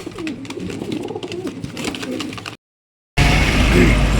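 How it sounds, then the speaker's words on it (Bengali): Racing pigeons coo repeatedly at close range in soft throaty bursts. A short dead silence follows, then a loud burst of broadband noise. "টোটালি ৮ পিস কবুতর ডেলিভারিতে আসলাম।"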